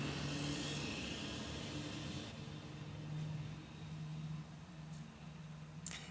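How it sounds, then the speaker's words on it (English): A truck passes outside, a steady low engine rumble with broadband road noise that swells and slowly fades, heard indoors at moderate distance with no talk. "I'm going to wait for the truck to go by."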